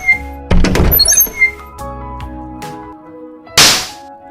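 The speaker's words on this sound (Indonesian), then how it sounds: "lalu tampar pemeran utama." A slap lands in a staged drama scene, a sharp smack followed by a few quieter thuds and soft knocks, then a second loud whooshing hit near the end.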